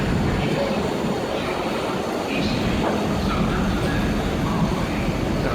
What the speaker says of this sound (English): My train now turning up.